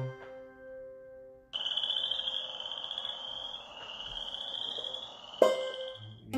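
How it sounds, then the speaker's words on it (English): A frog chorus rises from a lull into a steady, high trilling drone with a sharp burst near the end, heard alone without any voices. "Oh, Janet and John Boris, the frogs are singing your chorus now."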